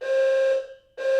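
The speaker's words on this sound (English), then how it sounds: "That's my fire alarm in my building going off." A building fire alarm blares in a loud, sustained electronic tone, breaks off briefly, then starts again, with no voices over it.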